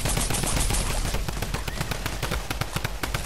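A rifle fires in Fortnite, with rapid sustained automatic shots that crack loudly and close in a dense, continuous stream.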